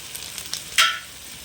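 Onion and tomato frying in oil in a pan for a Sunday-special chicken curry, giving a soft steady sizzle with one sharper burst of hissing partway through as more goes into the hot pan.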